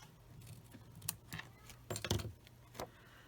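Scissors cut through card paper during greeting card making, a few quiet crisp snips and rustles close up, spaced irregularly.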